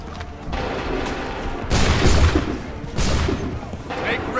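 Musket volleys crack out in Assassin's Creed III, ragged bursts of massed gunfire swelling twice in the middle, loud and close, over a constant din of battle with shouted commands mixed in.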